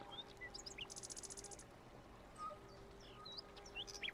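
Birds chirp and twitter faintly in a grassy, flowery meadow with trees, short scattered calls over a quiet outdoor background, with one brief buzzy rattling phrase early on.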